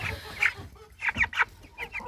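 Small Ross 708 broiler chicks peep and cheep in brief, high chirps, a few separate calls spaced close together, close by and with no talking.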